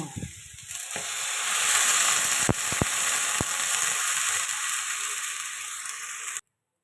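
Water poured into a pan of sautéed chopped raw onions for a Bengali dal ghonto, a loud sustained hiss and sizzle with a few sharp clinks of a utensil, ending abruptly in silence.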